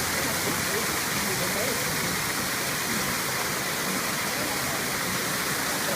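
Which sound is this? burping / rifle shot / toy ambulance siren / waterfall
waterfall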